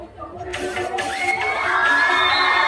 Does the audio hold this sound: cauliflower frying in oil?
no